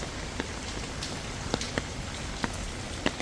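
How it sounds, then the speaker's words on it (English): Heavy rain pours steadily on a street in Gwangjin-gu, Seoul, a dense constant hiss with scattered louder drips and splats popping out close by, and no one talking. "This is a really heavy rain, man."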